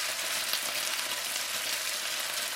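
Beef for a cabbage stir fry fries in a pan with a constant close crackling sizzle, even and unbroken throughout.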